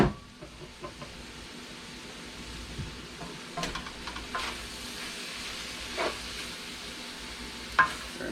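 Cajun jambalaya ingredients cooking in a pot give off a soft, steady sizzle and bubble, broken by a few brief clinks and scrapes of stirring.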